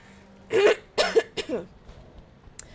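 A person coughs and clears their throat while still recovering from an illness, with a few close, abrupt bursts in quick succession followed by a softer rasp.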